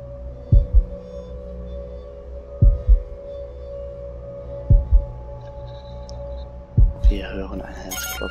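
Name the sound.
heartbeat in the video game Observer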